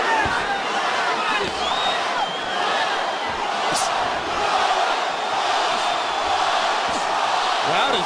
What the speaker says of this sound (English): Crowd is chanting, Roy,